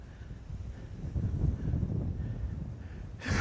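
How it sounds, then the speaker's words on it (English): Cold wind blowing across a microphone outdoors at a wilderness campsite in Appalachia, a steady low buffeting rush that swells and fades, with a sharper gust at the very end and no talk. "It's rather breezy and cold, but wow."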